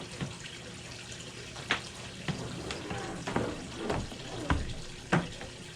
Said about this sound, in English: grab the hose, fill it up a little bit.